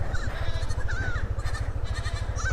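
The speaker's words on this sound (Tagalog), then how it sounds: "Ayan, may kambing oh." Goats bleating near a bridge over a river, a few short wavering calls at mid distance heard over a loud, steady vehicle engine rumble.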